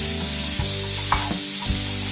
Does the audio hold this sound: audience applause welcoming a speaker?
no